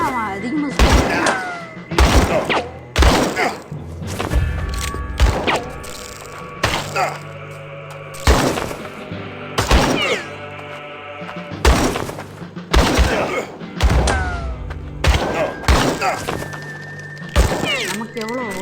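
Gunshots ring out in a cowboy shooter video game, a dozen or more sharp, loud reports in irregular bursts with short gaps, some ringing tones and game sounds between them.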